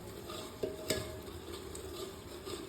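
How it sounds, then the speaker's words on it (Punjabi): Spices frying in hot oil to temper a vegetable dish, a faint soft sizzle broken by a couple of quick utensil clinks against the pan. "ਬਸ ਮੈਂ ਸਬਜ਼ੀ ਨੂੰ ਤੜਕਾ ਲਾ ਰਹੀ ਆ"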